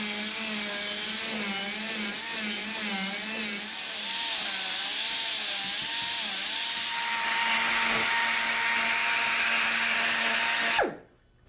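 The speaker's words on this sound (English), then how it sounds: "We're just finishing up carving with our small bit on the die grinder." A die grinder with a small bit carves a Purple Heart wood disc into a dome for an Asian style bench, a steady high whining motor with wavering pitch as it bites the wood, continuous then cutting off abruptly.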